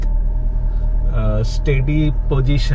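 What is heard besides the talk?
Maruti Ritz engine idling after throttle body cleaning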